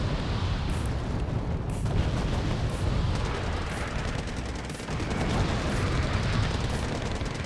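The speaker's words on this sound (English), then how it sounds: "Lots of mortars coming on you." Mortar fire in the strategy game Wargame Red Dragon, a continuous loud barrage of booming impacts and crackling blasts piling over one another for several seconds with no voices.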